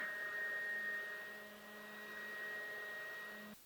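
A small handheld fan blows to dry freshly applied makeup, a steady close whirring hum with a faint high tone that runs evenly for a few seconds, then cuts off abruptly near the end.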